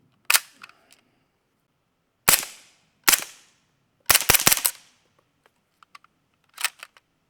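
A suppressed HDA3 rifle firing subsonic 147-grain rounds, several sharp muffled cracks: a single shot, two spaced shots, a fast cluster of about four, then one more, each with a short tail.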